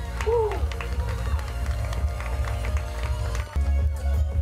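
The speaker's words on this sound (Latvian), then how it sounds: "Jā, kārtīgi ovācijas un kārtīgi aplausi Egitai, Papagāļu dresētājai" An audience at an outdoor fashion show gives a model applause and an ovation. Busy clapping runs under music and a steady low hum, with a brief voice near the start and a louder burst just past the middle.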